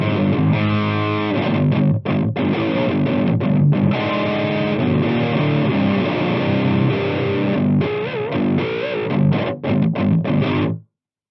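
Electric guitar played through a distortion pedal into an amp, a loud, saturated, continuous stream of chugging riffs and sustained chords with brief stops, heard alone until it cuts off near the end.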